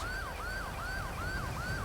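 An ambulance siren in the video game GTA 5 wails in a fast repeating yelp, loud and steady, with engine rumble beneath and no talk.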